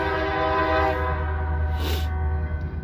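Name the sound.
BNSF freight locomotives working nearby on the Sioux City sub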